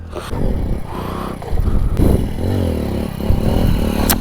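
A CT 100 motorcycle engine revs hard during wheelie practice, loud and close, its pitch rising and falling through several throttle bursts with some clattering.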